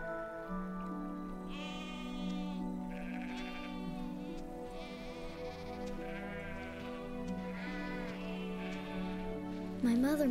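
Sheep tended by a young shepherd boy bleat repeatedly in quavering calls, several animals layered close together under a steady low drone, with no talk.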